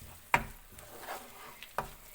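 Mutton with garlic paste frying in ghee gives a low, steady sizzle, with two sharp scrapes of a stirring spoon against the pan standing out.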